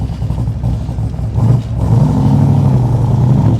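Engine of a 2020 Backdraft Cobra Iconic Edition warming up, a loud close idle that briefly dips and then rises into a fuller, steady rumble, with no talking.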